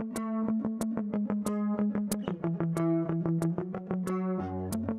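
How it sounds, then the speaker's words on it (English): A guitar riff of quick, evenly picked notes on an acoustic-style guitar, played alone and close, with a lower bass note entering near the end. "I came up with this little riff right here."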